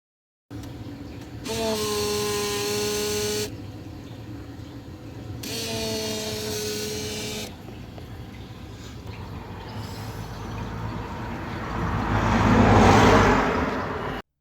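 A Volkswagen TDI diesel's in-tank and auxiliary fuel pumps, switched on through a relay, give two separate electric whines of about two seconds each. They sound close and fairly loud, and a broad rushing noise swells after them, with no speech.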